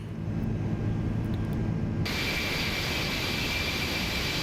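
Airbus A330 jet engines climbing out after takeoff from London Heathrow in Microsoft Flight Simulator 2024, a steady loud roar that brightens into a sustained high whine partway through, with no talk.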